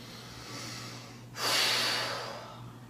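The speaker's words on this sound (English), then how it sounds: "take a big deep breath" One deep breath drawn in, a sudden loud rush of air that rises mid-clip and slowly fades away, close and alone over a faint steady hum.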